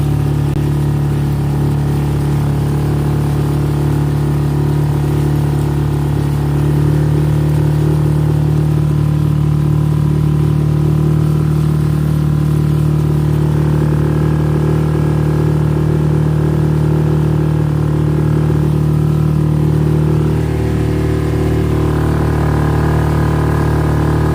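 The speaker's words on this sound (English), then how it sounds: "I can like raise the revs" Boat engine running at night, a loud steady drone with a strong low hum that rises slightly as the revs are raised midway, continuous throughout with no talking.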